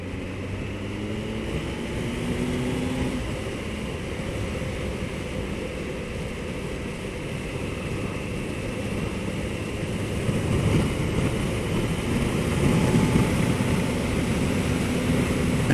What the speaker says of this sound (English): And you can hear the changes in the engine note